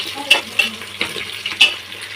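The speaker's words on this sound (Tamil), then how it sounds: "வெங்காயத்தை நல்லா வதக்கி விடணும்." Onions sautéing in a pan, a brisk sizzle broken by a few quick scraping stirs in uneven rhythm, near and fairly loud, no voices.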